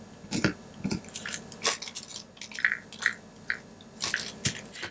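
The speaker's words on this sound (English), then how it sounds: "I'm going to start with the pressed powder. And I'm going to kind of scrape it into this cup" A craft knife scrapes pressed makeup powder out of its pan into a cup, giving close, irregular scratchy crunches and soft clicks that come in short bursts with brief pauses between.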